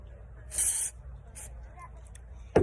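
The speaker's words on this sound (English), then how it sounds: "you're gonna spray it with some dry shampoo or texture spray" Two short bursts of dry shampoo aerosol spray hiss close by onto hair, the first about half a second long and the second briefer, with a thump at the end.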